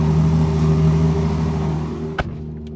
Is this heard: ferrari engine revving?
yes